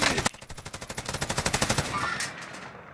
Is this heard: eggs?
no